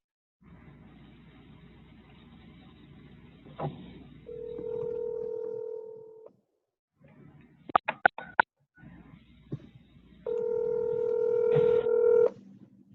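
Telephone dialing tones during a phone call: two steady, bright tone bursts, each about two seconds long, separated by a gap of quiet line noise and several sharp clicks, over a low background hum.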